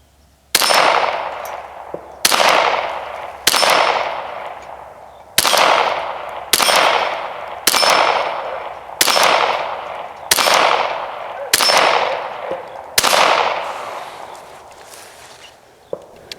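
Ten sharp gunshots from Ruger Mark III 22/45 pistols, fired at a steady pace about once every one to two seconds, each a loud crack with a short ringing tail outdoors, the last shot trailing off into quiet.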